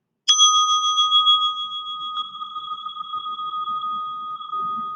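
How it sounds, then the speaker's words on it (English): A single meditation bell struck once to begin a mindfulness session, a clear bright strike followed by a long ringing tone that slowly fades, alone in a quiet room. "And we'll have 3 bells to get us started."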